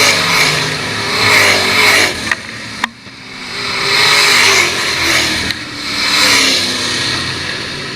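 Race cars roar past on the dirt track at Attica Raceway Park, engines swelling loud and fading in repeated passes with revving surges and a sharp crack between them.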